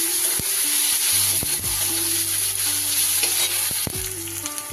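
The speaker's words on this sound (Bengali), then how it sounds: "আদা বাটাটা একটু নাড়া হয়ে গেলে এবার ওর ওপরে দিয়ে দিলাম একটা মাঝারি সাইজের টমেটো কুচি, আর ঝালের জন্য 4টে কাঁচা লঙ্কাকে চিড়ে দিয়ে দিই।" Chopped tomato and slit green chillies sizzling loudly in fried ginger paste, a dense continuous crackle heard close with scraping stirring strokes and no voice.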